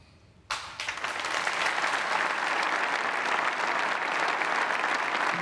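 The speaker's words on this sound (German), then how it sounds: "Applaus" A German TV talk-show studio audience breaks into applause after a brief quiet moment, then keeps up dense, even clapping that fills the room.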